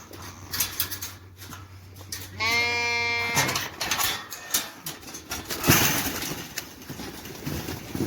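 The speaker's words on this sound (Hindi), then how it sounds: "देखिए ये जो है ना भेड़, इसने बहुत तंग किया हुआ है।" A sheep gives one loud, wavering bleat at a pen door in a village, amid rustling, shuffling and clattering from the flock nearby.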